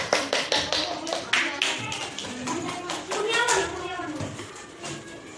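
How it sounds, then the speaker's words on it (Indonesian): Clapping in a school classroom as a girl student comes forward to present her group's discussion results, a few sharp claps standing out amid scattered hand claps and children's voices talking over it. "Tepuk tangan untuk Mbak Asila."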